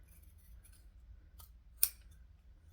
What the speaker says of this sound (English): I'm just going to take these scissors and I'm just going to fix any curvy issues